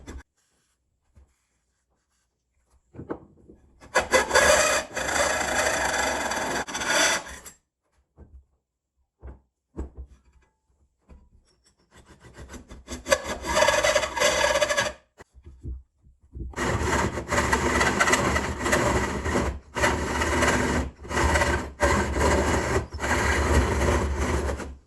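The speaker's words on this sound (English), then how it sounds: "For the middle, where the router bit sets, I'll use some oil and a 2-inch hole saw." A 2-inch hole saw bores through a router table top, with bursts of harsh grinding and cutting separated by pauses, the last stretch a long sustained cut, close and loud.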